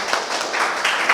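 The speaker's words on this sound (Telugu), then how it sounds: "అందరూ ఒకసారి గట్టిగా చప్పట్లు కొట్టుకుందాము మన గణేష్ మహారాజ్ గారికి" An audience at a spiritual meditation gathering applauds loudly, a dense, even patter of many hands clapping close by with no pause for the whole brief moment.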